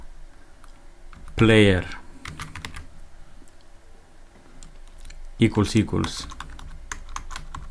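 Steady clicks of typing on a computer keyboard, close and fairly quiet, broken into short bursts as someone speaks a few words of code aloud.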